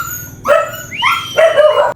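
Several dogs bark and yip close by at a house in Indonesia, with sharp overlapping barks in quick bursts filling the whole stretch and no talking.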